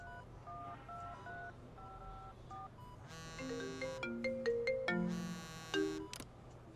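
A telephone keypad sounds a series of short dialing tones, first a few soft separate beeps, then a louder quick run of overlapping tones and chirps, with no talking.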